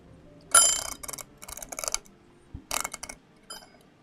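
A stream timer ticks after a reset during a Final Fantasy XIV game stream: a few irregular clicking bursts, moderately loud and close, with gaps of quiet between them and no talking.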